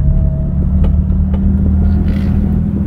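A BMW E30 fitted with new BC coilovers drives on a test run, giving a loud, steady engine and road rumble from inside the cabin with no talk.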